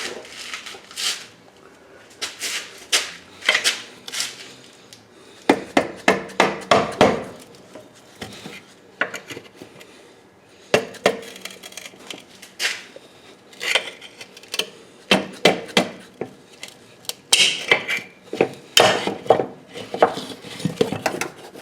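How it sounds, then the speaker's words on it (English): Metal tools clanking and scraping as an air spring retainer is pried off the rear axle of a 2005 Mercury Grand Marquis, with repeated sharp clinks and knocks in irregular bursts, fairly close. "You just got to pry that off."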